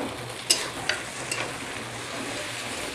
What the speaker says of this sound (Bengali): দিয়ে এর সঙ্গে ভালো করে ভাজবো।